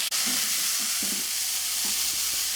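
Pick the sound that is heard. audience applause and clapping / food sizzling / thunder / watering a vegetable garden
food sizzling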